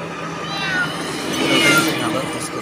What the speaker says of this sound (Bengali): এই যে দেখুন বনের বিড়াল এটা